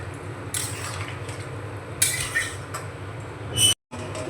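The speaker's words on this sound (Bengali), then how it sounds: "একটু নাড়াচাড়া করে মিশিয়ে নেব।" Young jackfruit pieces stirred with salt and turmeric in a pot, giving soft scraping and light clinks of a utensil against metal, with a few brighter knocks over a steady low background hum.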